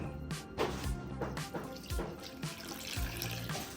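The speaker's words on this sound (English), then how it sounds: "Pour my stock." Stock being poured into a pot for cooking crawfish, a close, continuous splashing pour with gurgling bursts and a few drips, no talk.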